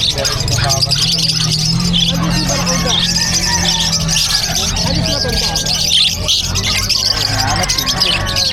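Many caged birds chirp and squawk in a bustling pet market in Bocaue, with busy overlapping calls heard close by under crowd babble and nearby talking.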